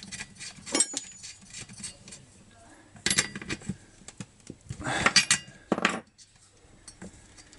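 A spark plug is screwed into a chainsaw during repair, heard as several bursts of metallic clinking and scraping, close and uneven, separated by brief quiet moments.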